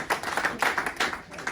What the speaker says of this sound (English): All right, let's give it a round of applause.